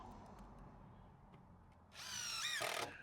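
A cordless drill driving a screw into wood while building an outdoor log store, a short, loud whirring burst with rising and falling motor pitch, lasting about a second after a quiet stretch of faint background noise.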